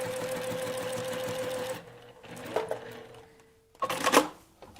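A sewing machine stitches fabric for a quilted cat bed with a fast steady whirring rattle, then stops; short bursts of clicks and handling noises follow, with no talk.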